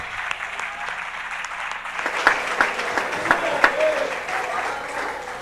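A church congregation claps during a Sunday service, a moderate wash of applause with a few sharper individual claps standing out, while the preacher keeps speaking over it.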